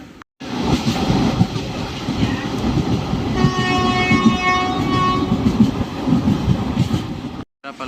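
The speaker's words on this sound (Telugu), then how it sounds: "సో శ్రీరంగం రైల్వే స్టేషన్కి అయితే రీచ్ అయిపోయింది మన ట్రైన్." A train pulling into Srirangam railway station, a loud steady rumble of wagons with a sustained horn blast in the middle and rhythmic wheel clatter, no talking.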